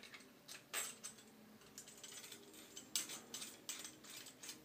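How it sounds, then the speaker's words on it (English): Twisting the knob of a Merkur 34C two-piece safety razor gives a series of faint, small ratcheting clicks in an irregular rhythm, close up and quiet, with no talking. "Twist the knob, loosens, knob tightens."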